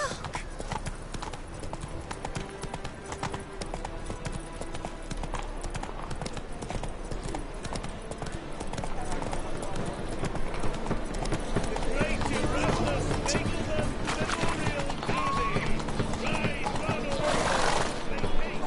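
Rapid clip-clop of the horse Roach galloping in The Witcher 3, rhythmic hoofbeats running steadily throughout and building louder toward the end, with voices talking over them.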